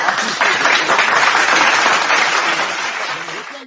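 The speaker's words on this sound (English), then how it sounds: "I'm gonna give myself some gunshots and applause right there" A canned applause effect plays on a live podcast, a thick, constant wash of crowd clapping that stays loud and even for several seconds before easing slightly toward the end.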